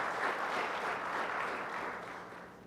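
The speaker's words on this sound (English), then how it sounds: "So can I please ask you to give them a round of applause?" A conference audience at an opening session gives a round of applause, dense, even clapping that holds steady and then slowly fades toward the end.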